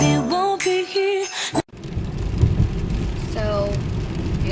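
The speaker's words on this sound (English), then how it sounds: "So, you guys can tell it is raining." Steady rain falls on a rainy December day, a dense hiss that takes over after a short burst of music and carries on continuously, fairly loud and close, with no talking over it.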